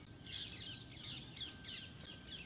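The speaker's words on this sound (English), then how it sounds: "So many parrots. I hope you all can hear all these parrots." A flock of parrots squawking outdoors, repeated harsh calls in quick bursts, fairly close but not loud, over a low steady background murmur.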